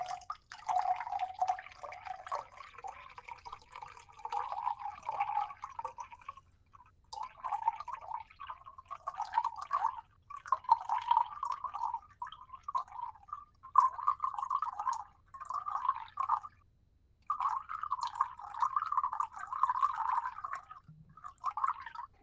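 Water trickles and glugs in several bursts as it is poured into a glass, the bubbling stream starting and stopping in pauses over a quiet room.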